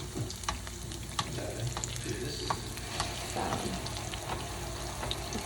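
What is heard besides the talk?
ripe plantains frying in a pan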